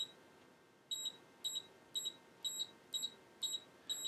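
A Keysight U1282A multimeter in continuity mode gives a series of short, high electronic beeps, about two per second, clear and close over a quiet background.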